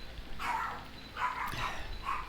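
Dogs barking in a few short, separate bursts, somewhat distant and muffled, with quiet pauses in between.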